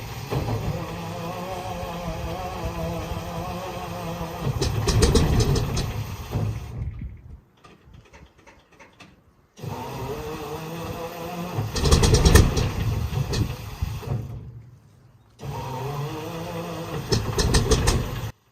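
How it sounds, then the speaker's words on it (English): 27-litre Rolls-Royce Meteor engine of a Centurion tank starting and running: three loud bursts of heavy, rumbling engine noise with rough surges and crackles, separated by short near-silent gaps. "Powered by a Rolls-Royce Meteor engine displacement 27 liters"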